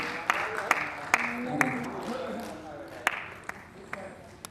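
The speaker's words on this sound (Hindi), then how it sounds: "तो एक बार सुनील भैया के लिए जोरदार तालियां" Scattered applause rises from an audience at a stage event in Bihar, honouring Sunil with sparse, uneven claps over a low hum of voices and a background murmur that fades toward the end.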